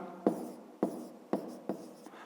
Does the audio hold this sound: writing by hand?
yes